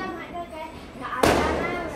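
A firecracker goes off during Diwali celebrations at a home. One sharp, loud bang cuts in partway through and then decays, with people talking around it.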